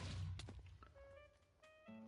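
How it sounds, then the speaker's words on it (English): A hammer triggers a deep booming explosion in a Minecraft Bedrock Iron Man addon game, starting with a heavy blast and crackling debris, then quieter tonal game effects follow. "That's a big explosion."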